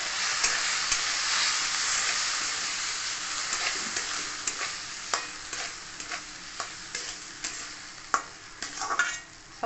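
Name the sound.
sabudana (sago pearls) frying in a pan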